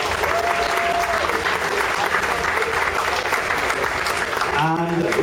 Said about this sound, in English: Give these guys a round of applause first of all